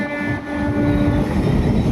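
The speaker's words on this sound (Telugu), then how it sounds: "ఇంకా మేము ట్రైన్ వచ్చేసి ఎక్కేసాము." A passenger train heard from on board or close by, a steady continuous rumble of rolling cars with faint tonal hums, moderately loud and unbroken throughout, with no talking.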